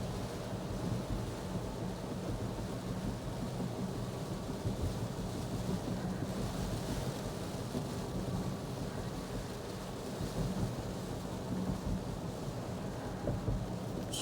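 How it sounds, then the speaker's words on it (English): Steady rain falls outside on a cold day near freezing, a continuous broadband wash with low rumbling undertones that could be distant thunder, heard alone without voices throughout. "No, it's mostly rain."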